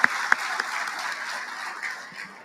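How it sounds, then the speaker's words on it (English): Audience at a Marine Corps awards dinner applauds family members, a fairly quiet, steady wash of clapping from a room of guests with a few sharper nearby claps at the start. "I want to give a round of applause for all the family members"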